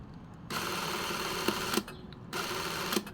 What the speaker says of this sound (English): As we know, I'll press the shutter button.